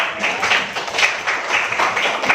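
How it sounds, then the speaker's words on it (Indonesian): Steady applause from a group, a dense patter of many hands clapping continuously throughout, fairly loud and close. "Tepuk tangannya dulu dong."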